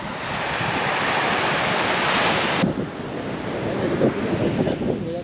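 Ocean waves wash steadily onto a beach, a continuous broad rush mixed with gusty wind buffeting the microphone.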